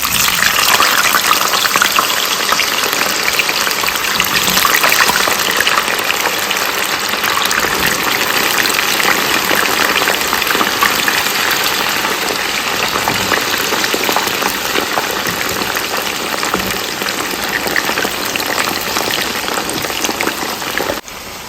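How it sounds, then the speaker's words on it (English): Loud, continuous crackling sizzle of cocoyam frying in hot oil, dense and steady throughout, close by with no talking. "Our oil is okay, so I'll go ahead and add my cocoyam."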